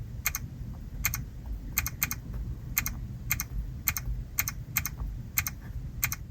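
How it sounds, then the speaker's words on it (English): Light tapping clicks come from a Kia EV6's infotainment touchscreen as a navigation destination is entered, a dozen or so crisp, evenly paced electronic key sounds over a low cabin hum. "I also love the sound this makes when you type stuff into it, like for instance a navigation"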